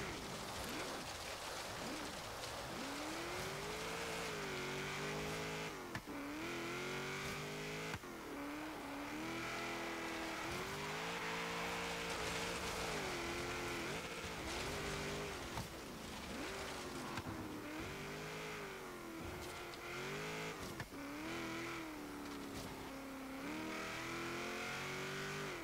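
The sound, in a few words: 1970 Chevrolet Corvette ZR-1 engine racing, Forza Horizon video game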